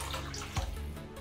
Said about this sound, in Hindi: तो अब हम नूडल्स बॉईल करेंगे और इसके लिए हमें चाहिए पानी